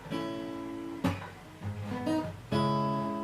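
Acoustic guitar playing a 90s-style part from a song, with a few strummed chords ringing out clearly and alone, each new strum sharply restarting the sustained tone.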